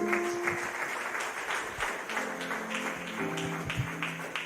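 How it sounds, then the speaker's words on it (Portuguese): A congregation at a church service claps steadily and enthusiastically, sustained applause filling the room. "Receba o servo do Senhor com palmas bem alegres para o Senhor."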